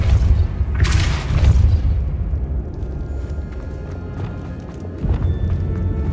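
A Depulso spell in the Hogwarts Legacy video game releases a loud, booming burst, and a second thump follows a few seconds later over a low game rumble.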